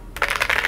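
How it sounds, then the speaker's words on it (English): Epomaker RT100 mechanical keyboard keys clacking in a quick, steady run of close, crisp strikes after a brief quiet start. "the RT100 stands head and shoulders above simply due to its old school charm and irresistible clack the keys make."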